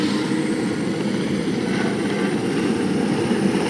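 A helicopter running at full power before lift-off, a loud close, continuous rotor and engine drone with a steady rhythmic chop, alone without voices.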